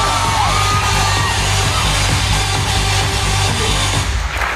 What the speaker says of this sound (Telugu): గ్రేట్ క్లాప్ చేశారు రాజేశ్వరి గారు కోసం